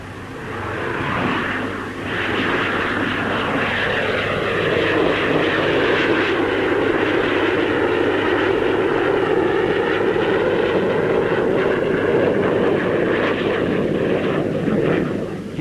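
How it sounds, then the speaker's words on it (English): A Gloster Javelin two-seat radar-carrying jet fighter roars past at a Farnborough airshow, a loud sustained engine rumble and whine swelling and holding for the whole stretch. "Among the fighters on show is the two-seater radar-carrying Gloucester Javelin."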